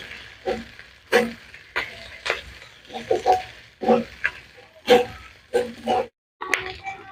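Ginger paste being stirred and fried in a pan over garlic, a rhythmic series of short sizzling scrapes about every half second, fairly close and clear.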